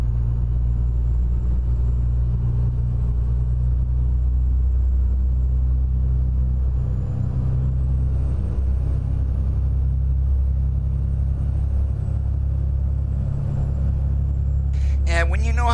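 Detroit Series 60 diesel engine modded into a classic truck in American Truck Simulator, a steady low diesel rumble droning throughout at constant load, loud and close, with a brief clatter near the end.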